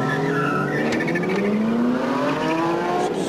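Cars at full throttle in a road race between a Mercedes E55 AMG and a Subaru Impreza, with a Mitsubishi 3000 GT and BMW E36 also running: loud, continuous engine roar with rising pitch sweeps as they accelerate, and tire noise, close by.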